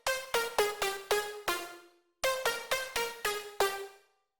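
A bright synth lead plays a bouncy phrase of plucked, harmonic-rich notes, a short pause, then repeats the pattern, ending on a sustained tone.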